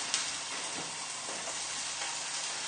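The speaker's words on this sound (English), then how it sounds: "hopefully this will sizzle now." Cod fillet skin sizzling in a hot pan, a steady close frying hiss that runs unbroken and alone for a few seconds.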